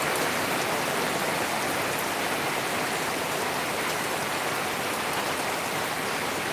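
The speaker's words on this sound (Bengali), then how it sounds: "অনেক বৃষ্টি হচ্ছে" Heavy rain pours outside a house in Rajyeshwarpur Part 7, Hailakandi district, Assam, heard from indoors by a window. It is a dense, even, continuous hiss of falling water with no talking.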